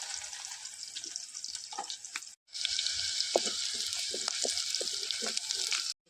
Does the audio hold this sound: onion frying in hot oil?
yes